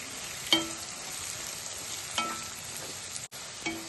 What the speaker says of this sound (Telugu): హాఫ్ టీ స్పూన్ పసుపు ఒక స్పూన్ కారం వేసుకొని కలుపుకుందాం